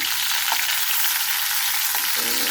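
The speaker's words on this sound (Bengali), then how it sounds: "এই যে পটলের মুখগুলো আমি একটু আটা দিয়ে লাগাই দিচ্ছি এরপর এটা ভেজে নেব" Flour-coated pointed gourds frying in hot oil give a dense, constant hiss and crackle, loud and close, running evenly without pause and with no voices.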